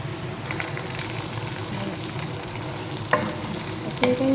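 Chicken pieces sizzle and fry steadily in a pot of hot oil for Qatari majboos, a continuous close crackle broken by a couple of sharper clinks and stirring sounds near the end.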